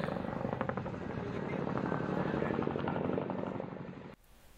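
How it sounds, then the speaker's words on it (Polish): A helicopter landing on a school roof, its rotor beating in a loud steady thrum with engine whine, staying close and heavy for several seconds before cutting off abruptly. "Na dachu naszej szkoły wylądował właśnie helikopter"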